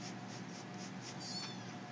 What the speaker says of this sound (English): What you doing, kitten?